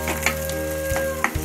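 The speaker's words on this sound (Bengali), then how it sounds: "এটা সুন্দরভাবে আগে ভেজে নেব।" Two large chopped onions frying in hot oil for a jackfruit curry, a steady close sizzle with a few brief stirring clatters and no talk.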